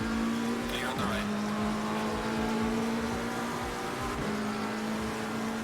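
Race car exhaust from a GT car in the racing game Assetto Corsa Competizione, a steady sustained engine drone with a pitch dip and rise as the car shifts, loud and continuous without talk.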